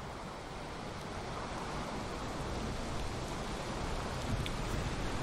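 Steady rain in the video game Valheim, a dense even hiss of falling water that holds at a constant level throughout with no talk.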